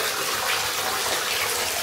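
Water gushes steadily from a tap into a bathtub, a close, continuous rushing splash filling the whole short moment without any speech.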